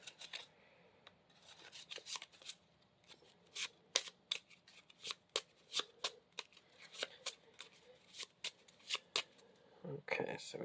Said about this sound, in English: her 3 other Nemesis cards are going to get shuffled in to the main encounter deck